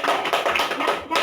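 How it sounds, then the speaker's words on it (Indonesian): Brief burst of classroom applause for a pupil named Ilham during a fifth-grade lesson, a quick patter of many small hands clapping close by, lasting about a second. "Tepuk tangan buat Ilham."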